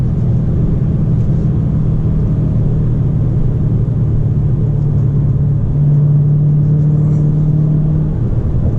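Loud continuous engine drone from inside a moving car, a low steady hum with a rising tone near the end as the engine works harder.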